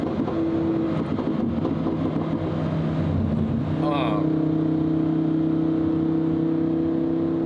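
A Lamborghini Huracan STO supercar drives along with a steady, loud engine drone and road noise, its pitch shifting midway as it changes speed, with a voice talking over it.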